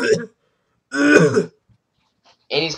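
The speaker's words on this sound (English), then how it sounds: "And he's coughing horribly right now." Coughing and throat-clearing from someone nearby comes in two short, harsh bursts about a second apart, with quiet gaps around them and a third burst starting at the end.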